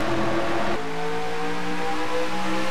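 Race cars accelerate around the Phoenix oval in a racing video game, a steady engine drone with layered whining tones that shift slightly as a restart gets under way, continuous and fairly loud.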